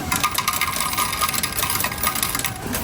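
Arcade tokens clatter and jingle as they drop into a machine, a rapid run of small metallic clinks and rattles close by, fairly quiet and continuous for a few seconds with no voices.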